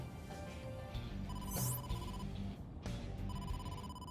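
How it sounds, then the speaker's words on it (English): A phone rings for an incoming call in the video game AI The Somnium Files, giving repeated electronic ring tones over a steady bed of game music, with no talking. "incoming call from the boss"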